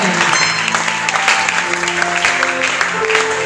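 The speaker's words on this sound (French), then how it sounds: "tu vas te tenir debout, tu vas acclamer très fort pour le Seigneur" A church congregation applauding and acclaiming, steady loud clapping from a large crowd with cheering voices mixed in, continuous throughout.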